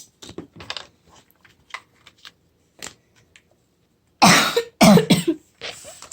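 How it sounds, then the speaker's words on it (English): Several harsh, loud coughs burst out in a quick cluster near the end, after scattered small clicks and quiet handling noises. "Coughs are so annoying."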